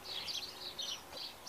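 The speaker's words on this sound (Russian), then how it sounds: "Надюша, она птичек гоняет" Small birds chirp in a vegetable garden with tomatoes growing outdoors, a run of quick, fairly faint high tweets repeating in short bursts over a quiet outdoor background, with no talking.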